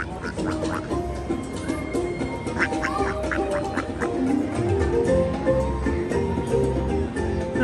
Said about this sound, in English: Look at all our ducks just having the time of their lives.